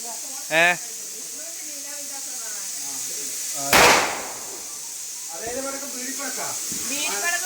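A loud burst of hissing spray from a flowerpot firework erupts midway during Vishu celebrations, bright and noisy, with people talking before and after.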